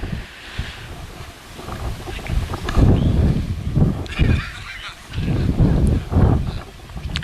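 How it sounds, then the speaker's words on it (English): Gusty wind outdoors at a lawn bowling green in Calgary during a men's singles final, buffeting the microphone in uneven surges that swell and ebb as loud rumbling bursts. "the wind is gusting"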